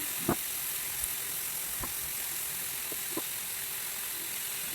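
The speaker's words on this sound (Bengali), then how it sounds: "খুব ভাজবো না তাই হালকা ভেজে নিচ্ছি" Winter vegetables frying lightly in a pan give a soft, steady sizzle and hiss throughout, broken by a few faint clicks and stirring knocks, with no voices.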